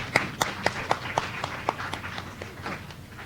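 A handful of audience members clap at a live-streamed school spelling event, with sparse, distinct claps in an uneven rhythm that thin out over a few seconds.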